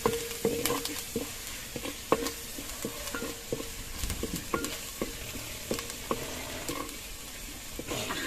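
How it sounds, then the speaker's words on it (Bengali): Ginger and garlic paste fries in a new clay pot over a clay stove, sizzling steadily while a spoon scrapes and knocks against the pot in irregular close taps. No one speaks. "ভালো করে ভেজে নেব।"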